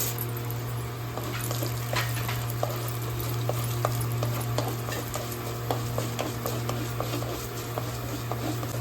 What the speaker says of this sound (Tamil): உளுத்தம் பருப்பு போட்டுக்கலாம்